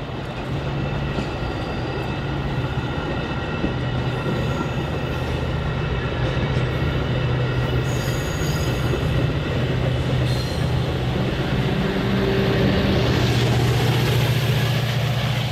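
A BNSF Metra commuter train pulls away on a busy triple-track main line, a steady low diesel drone and rolling rumble holding throughout with faint wheel and rail noise rising toward the end, no voices.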